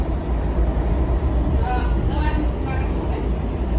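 A Washington Metro train rumbles past with a heavy low-frequency roar and brief squealing tones partway through, steady and loud throughout.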